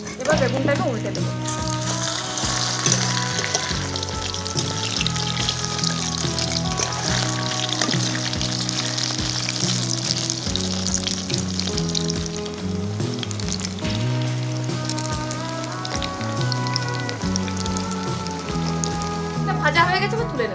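Batter-coated brinjal slices frying in white oil in a kadai after being flipped, a continuous loud sizzle and spatter with a voice speaking over it.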